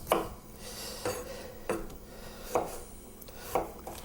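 A knife cuts through onions in slow, regular strokes, about five crisp slicing knocks against a board, roughly one each second, close up.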